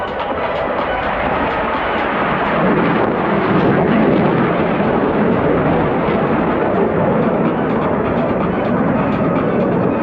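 A jet aircraft with visible afterburner flame flies past at the Cosford air show, a loud, continuous broadband roar holding for several seconds.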